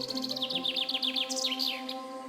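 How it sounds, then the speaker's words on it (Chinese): Rapid series of high, descending chirps and trills from a bird singing in a quiet, remote natural spot, close and fairly clear over a faint steady background hum. "只有鸟鸣声所添加的一份清幽"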